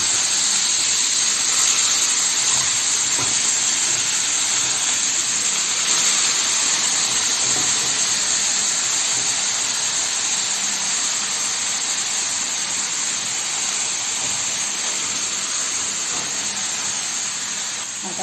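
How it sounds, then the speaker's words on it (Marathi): Fenugreek leaves squeezed and tossed onto a hot tawa over browned garlic and chillies, giving a loud, continuous sizzling hiss that holds steady for the whole stretch, with no talking. "आता ही मेथी अशी परतायची"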